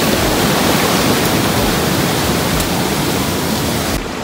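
Rushing mountain streams in Nepal give a loud, steady broadband roar of churning water that fills the whole stretch without pause and dips slightly near the end, with no voices.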